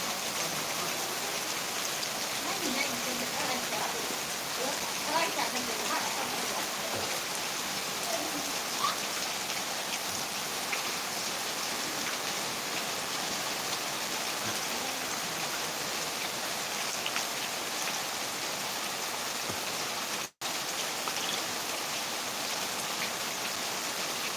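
Steady, dense rain pours down in a continuous broadband hiss of drops striking surfaces during a storm, even and unbroken apart from one sudden momentary dropout near the end.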